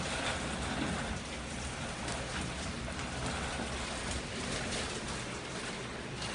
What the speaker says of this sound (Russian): А ливень не заканчивается.